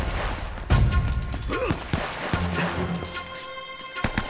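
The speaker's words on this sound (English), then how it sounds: "Why am I hearing gunshots from this direction?" Several sharp gunshot bursts crack out amid game noise and effects in Uncharted: Drake's Fortune, with a few loud impacts and rapid shots scattered across the scene.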